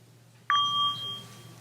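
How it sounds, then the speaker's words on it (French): Soft touch of a wooden inviter stick against a Buddhist bell in a French-language Dharma talk, giving a single faint, clear metallic ding with a thin sustained ring that fades slowly. "Donc je vais venir coller le bâton sur la cloche, mais de façon à ce que cela fasse un petit son"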